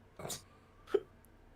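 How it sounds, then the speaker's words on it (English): Two short, soft hiccups from a person, spaced under a second apart, close to the microphone in an otherwise quiet room. "someone got hiccups"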